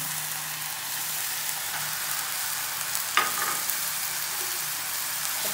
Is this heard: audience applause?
no